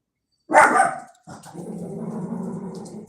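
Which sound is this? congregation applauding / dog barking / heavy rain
dog barking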